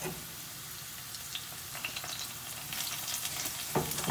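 Aubergines fry in olive oil in a pan, a close, steady hissing sizzle that swells with bursts of crackling and spatter toward the end.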